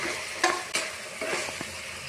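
Onion with ginger garlic paste frying in a pan for chicken ghee rice, a soft continuous sizzle broken by a few sharp scrapes and stirs of a spoon against the pan, close and fairly quiet.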